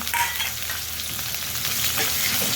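Onion sautéing in hot oil with cumin and curry leaves for a spicy potato rassa curry gives a steady, close, dense sizzle that holds evenly throughout, with no voices.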